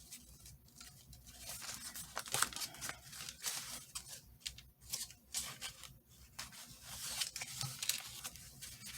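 Paper ends are trimmed for tag note pads, producing close, quiet snipping and crisp rustling in irregular bursts with small crinkles between cuts.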